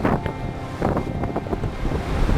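Strong 30-knot wind buffets a racing IMOCA sailboat at sea, a loud gusty roar mixed with rushing waves and hull noise, with no one speaking.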